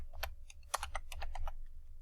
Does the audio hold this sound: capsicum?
no